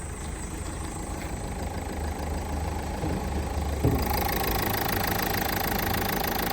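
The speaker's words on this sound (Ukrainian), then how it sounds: "двигунчик робить гарно, рівно" A Renault Megane 3 with a 1.5 dCi diesel idles steadily at close range, a continuous even clatter and hum that holds throughout with a slight shift partway as the bonnet area opens up.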